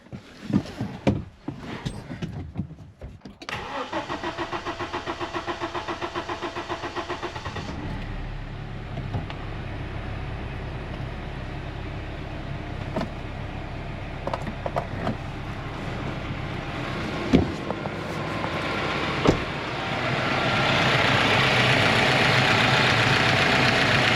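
A JAC T6 pickup truck engine cranks and catches after fuel system repair, then settles into a steady idle that grows slightly louder, with a few clanks and knocks along the way.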